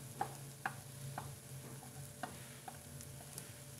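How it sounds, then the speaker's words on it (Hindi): Ground spices such as turmeric, red chili, coriander and black pepper are sautéed with onions in a pan, with a soft steady sizzle and light scraping clicks of stirring, quiet and continuous. "और इन मसालों को अच्छे से प्याज के साथ भून लेंगे."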